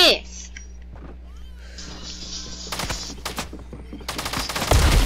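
Rapid bursts of video game gunfire in Fortnite, sharp repeated shots clustering near the end, mixed with game effects while a player talks excitedly over them.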